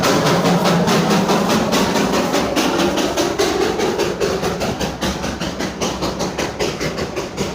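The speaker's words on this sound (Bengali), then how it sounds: "এই মুহূর্তে চলে গেল আপনার আমাদের সেই কয়লার ট্রেন, টয় ট্রেন।" Coal-fired Darjeeling toy train passing a hillside viewpoint, loud continuous rumble with rhythmic clicking of wheels over rail joints, fading slightly as it moves away.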